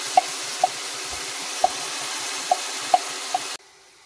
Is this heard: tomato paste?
yes